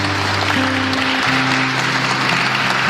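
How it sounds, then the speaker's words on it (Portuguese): A church congregation claps to welcome a guest speaker, a brief wash of dense applause with a faint tonal hum beneath. "uma salva de palmas."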